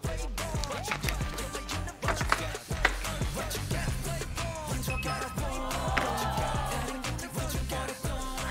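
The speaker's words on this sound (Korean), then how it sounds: "아기가 칼질을 한다고?" A knife taps repeatedly against a cutting board in quick, uneven chops by a child cooking braised chicken, close and fairly steady, with faint kitchen noise around it.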